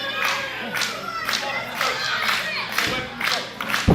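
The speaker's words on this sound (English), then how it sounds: "You hear the crowd starting to get behind Bohren, starting to clap their hands for him" A wrestling crowd at an OTW match claps in a steady rhythmic beat, about two claps per second, with a loose murmur of voices underneath.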